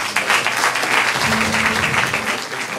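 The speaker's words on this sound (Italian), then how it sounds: "E qui chiedo pure un applauso" Audience applause at a concert by a children's choir, steady dense clapping filling the room throughout.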